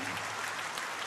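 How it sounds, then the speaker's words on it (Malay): Crowd at an UMNO general assembly applauding the Terengganu Chief Minister and state UMNO, a brief, fairly soft burst of dense clapping that stays steady and even. "Sila beri tepukan"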